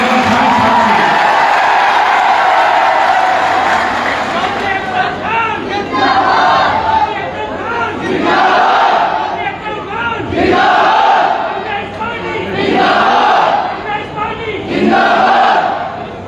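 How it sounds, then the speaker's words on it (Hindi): A large crowd at an outdoor political rally cheers and claps in loud, repeated surges, swelling and dipping several times with shouts mixed in. "ये तालियों की गूंज बता रही है"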